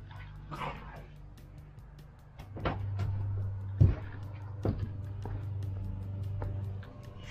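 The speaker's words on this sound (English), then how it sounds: "Couple of goofy dogs." A couple of dogs give short yips, whimpers and soft barks at intervals outdoors on an autumn evening, over a steady low engine hum, with a person speaking briefly.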